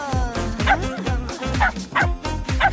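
A puppy barks and yips in rapid, repeated high bursts, loud and close, with whimpering tones between the sharp yaps.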